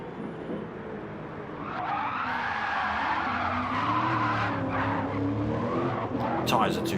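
GT3 race car tyres skid and squeal as the car drifts through a corner at Catalunya in a racing video game. The loud screech is sustained over a steady engine drone.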